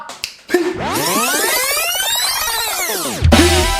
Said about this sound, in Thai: ผมจะดีดนิ้วนะให้พี่วาร์ปไปเอา